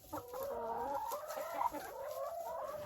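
Chickens in a deep-litter chicken house cluck and murmur steadily for a few seconds, a close, continuous flock chatter with no talking.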